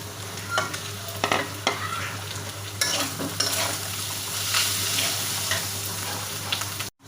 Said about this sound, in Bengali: ওটার জায়গায় আমি হলুদের গুঁড়ো, মরিচের গুঁড়ো, ধনিয়ার গুঁড়ো আর স্বাদ মতো লবণ এগুলো দিয়ে সুন্দরভাবে আমি কষিয়ে দেবো